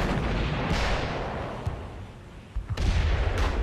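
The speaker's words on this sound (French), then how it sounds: "Mais soudain, des coups de canon tonnent." World War I cannon fire near the village of Seicheprey in Lorraine: heavy, rumbling booms with several sharp bursts, loud and reverberant, with no voices.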